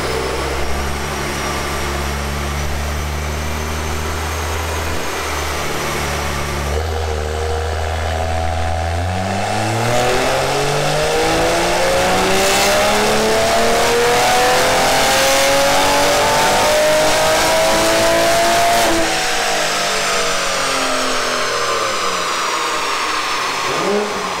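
Single-turbo Toyota Supra engine on a dyno pull, a loud sustained run that starts low, then climbs steadily in pitch with turbo whine toward the top before easing off, with no talk.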